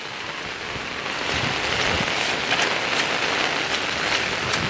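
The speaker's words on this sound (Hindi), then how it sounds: "अब देख रहे हैं नीचे इतना पानी चल रहा है" Floodwater rushing through the lanes of a flooded housing society in Gujarat, a steady broad hiss and wash of moving water that swells slightly louder after the first second and holds.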